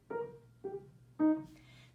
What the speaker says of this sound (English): If I were playing the piano, staccato would sound like this.